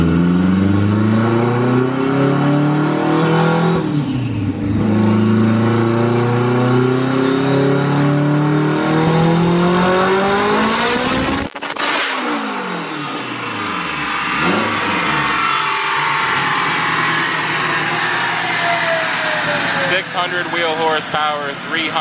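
A stock K20A2-engined AWD Honda Civic sedan, a roughly 600 hp sleeper, revs hard through a full-throttle pull, loud and close, climbing through the gears with shift breaks around the middle and a rising wail near the end; talk mixes in.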